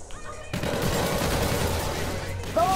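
Bursts of automatic gunfire in the video game Call of Duty: Infinite Warfare, a dense rattling fusillade starting abruptly and running continuously, loud and close.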